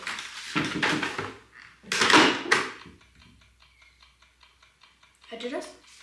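A Cookeez Makery toy oven timer ticks steadily in soft, evenly spaced clicks after its dial is turned, with louder handling clatter and a voice around it.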